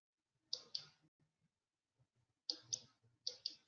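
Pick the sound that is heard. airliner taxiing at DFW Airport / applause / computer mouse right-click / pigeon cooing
computer mouse right-click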